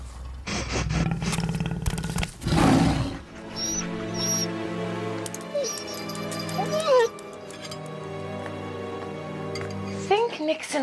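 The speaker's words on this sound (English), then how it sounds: "Nixon wants us to stop talking about the giant cat. Do you want to see a picture of the Smilodon" A sabre-toothed Smilodon cat roars loudly in a children's dinosaur show, a burst of growling roars followed by musical tones and a short voice-like snippet.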